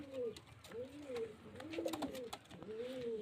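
A pair of high-flying pigeons cooing close by, in Murshidabad, several soft rolling coos repeating in a steady rhythm with light scuffling in the background.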